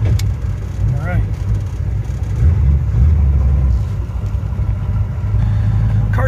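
A 1933 Buick Series 60 engine idles with a low, steady rumble, a few faint clicks and shifting tones over it, no voices standing out.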